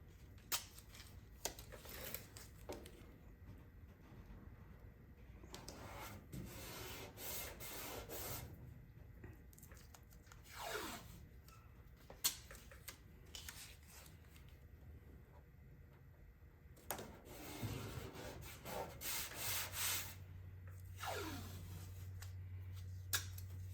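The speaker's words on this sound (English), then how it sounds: "we are going to lay tape all along this area so that we can find our starting point" Tape being pulled off a roll and laid along a painted surface of a 1967 Jeep M72, with repeated ripping and rubbing strokes at close range and quiet pauses between.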